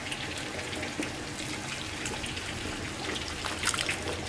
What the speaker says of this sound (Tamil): இப்போது நம்ம அந்த தண்ணியை மட்டும் வடிச்சுப்போம்.